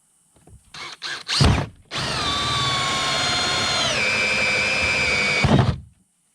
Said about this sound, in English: So let's get that hole drilled.